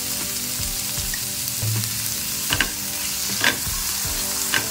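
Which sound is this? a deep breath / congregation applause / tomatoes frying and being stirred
tomatoes frying and being stirred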